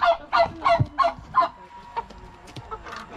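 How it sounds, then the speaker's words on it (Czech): Farm chickens in Moravia cluck in a quick run of about six sharp calls, close by, followed by softer scattered clucks. "Ahoj, slepice!"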